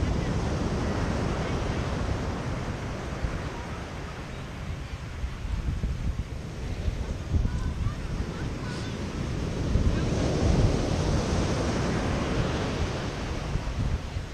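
Ocean waves wash onto Nha Trang beach in the afternoon while wind buffets the microphone, a continuous roar of surf and gusts that swells louder toward the end.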